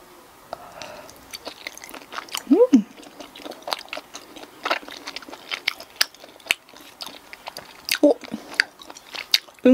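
Close-up chewing of spicy churro-shaped tteokbokki rice cakes with fish cake, sticky bites and wet squishes repeating irregularly, with a brief voiced hum mid-chew.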